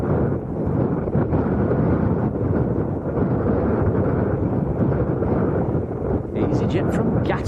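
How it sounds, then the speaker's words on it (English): Gusty wind at Arrecife Airport on Lanzarote roars loudly and steadily against the microphone throughout, with a few faint higher chirps near the end. "the wind, it's gusting up into the, around about the 20s, towards 30 gusts"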